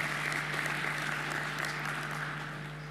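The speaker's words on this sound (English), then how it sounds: "Another round of applause for Ambassador Fred as he leaves." Conference audience at an Africa-focused event clapping, a faint, steady patter of many hands under a constant electrical hum, fading slightly toward the end.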